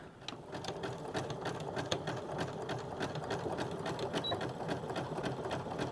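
Sewing machine stitching elastic on pull-on pants, a steady close rhythmic whir of needle strokes running throughout at moderate level, no talking.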